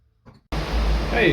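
Lubricant sprayed from an aerosol can onto the motor parts of an old Servian SA2 drill press: after a brief faint noise, a loud, steady, close hiss starts abruptly and continues to the end.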